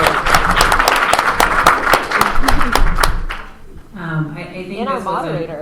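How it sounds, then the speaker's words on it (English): An audience claps for a town hall panel in a hall, with dense applause for about three seconds before it fades out. Voices then carry on talking. "Can we give them a round of applause?"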